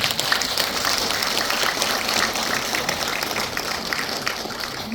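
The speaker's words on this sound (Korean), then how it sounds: "여러분들도 그 감사에 보답하기 위해서 박수 한번 쳐주시기 바랍니다" Residents at an apartment reconstruction briefing clap for the district head: a continuous, even patter of many hands, moderately distant, sounding almost like steady rain.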